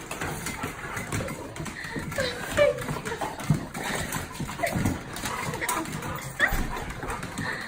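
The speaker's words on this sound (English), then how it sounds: "This dog is super excited to see its best friend." An excited dog barks and whimpers in bursts of yelps and whines as it greets a close companion, the sounds near and loud over background noise.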